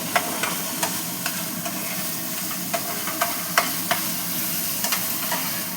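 Katla fish masala with coriander-cumin powder and salt sautéing in hot oil, a steady close sizzle with a few sharp spatula taps and stirring scrapes scattered throughout.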